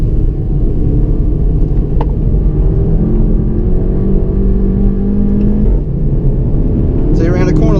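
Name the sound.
2016 Volkswagen Golf GTI engine accelerating through corner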